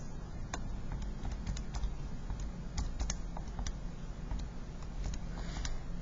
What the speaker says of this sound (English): I'm going to just type it all in at once.